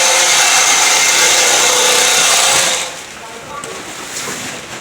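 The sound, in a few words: sewing machine stitching relief sacks shut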